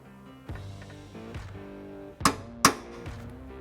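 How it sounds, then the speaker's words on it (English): Two sharp metallic taps of a hammer on a center punch, marking a drill point on a Toyota Tacoma hood, close and distinct, struck about half a second apart over a low steady background hum. "get your center punch and your hammer and tap directly in the center"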